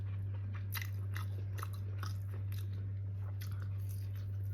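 Someone eating fish vinegar-marinated like bangus, producing close, soft wet bites and chewing sounds in an irregular rhythm over a steady low electrical hum, with no talking.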